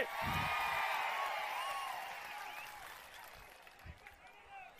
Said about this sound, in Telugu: గట్టిగా చప్పట్లు కొట్టి నిరసన తెలియజేయండి